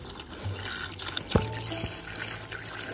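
Water trickles and splashes close up, with a steady watery rush and a few brief drips or knocks, no voices.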